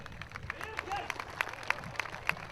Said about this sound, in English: she gets a round of applause from the spectators